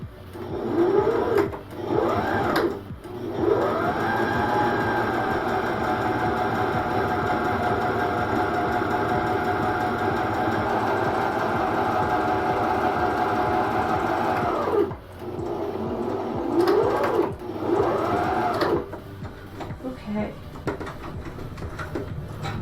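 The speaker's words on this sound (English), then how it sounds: "and sew that face to face as well" A sewing machine runs close up, stitching fabric pieces face to face for a passport case, with a long steady mechanical whir broken by short bursts at the start and end, plus brief handling knocks between runs.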